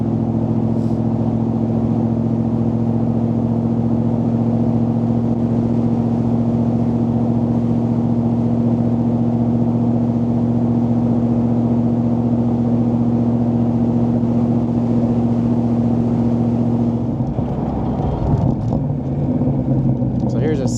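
Steady, loud drone of a Coyote-powered 1965 Backdraft Racing Cobra replica engine, holding an even tone before it shifts and roughens near the end.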